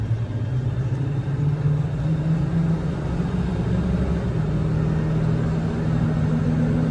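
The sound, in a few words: Ford F550 6.7 Powerstroke turbo diesel truck engine driving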